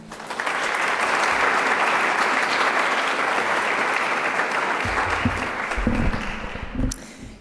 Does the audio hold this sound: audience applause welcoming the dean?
yes